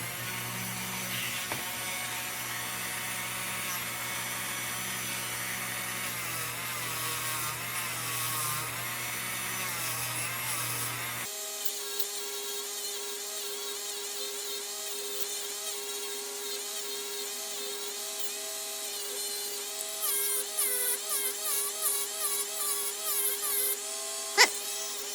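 A high-quality Dremel wire wheel grinds against the filler cap of a C. T. Ham No.0 clipper lantern, a steady loud whir running throughout with a shift in pitch partway and rough scraping bursts near the end.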